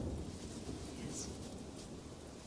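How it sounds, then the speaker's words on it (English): Faint, distant thunder rolls low and steady through a rainstorm, a soft continuous rumble under a light hiss of rain, quiet and far off. "Listen. Thunder."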